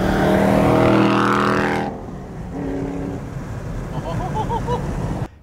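A BMW E92 M3 with a swapped engine passes by with a loud, low, burbling exhaust note that rises and fades within a few seconds, followed by quieter engine drone and a faint distant high whine.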